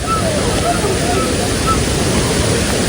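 Steady roar of a waterfall in Yaremche in the Carpathians, a dense, continuous broadband rush that stays loud and close throughout.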